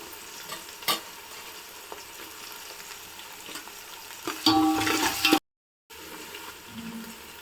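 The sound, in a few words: onions and green chillies frying and being stirred in a pan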